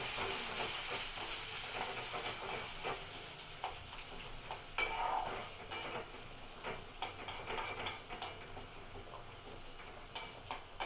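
Gobindobhog rice frying in oil in a pan over low-medium flame, a faint steady hiss broken by soft scattered crackles and clicks, with no voices.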